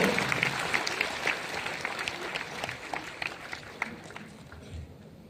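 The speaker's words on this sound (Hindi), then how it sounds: "एक बार सब लोग ताली बजा दे प्लीज। कोमल के लिए जोरदार तालियां।" Steady applause from an audience at a meetup in Lucknow, dense clapping throughout that slowly thins and softens toward the end.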